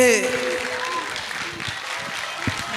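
Audience applause after a dance performance on a televised talent show stage, a continuous crowd clap filling the background under a host's amplified voice.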